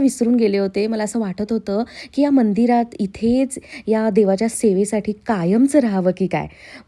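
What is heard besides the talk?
None of the usual background noises is heard.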